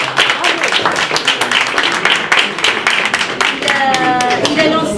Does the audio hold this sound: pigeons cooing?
no